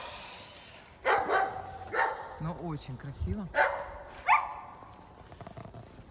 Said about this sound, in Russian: Фу, слава богу, привязаны собаки.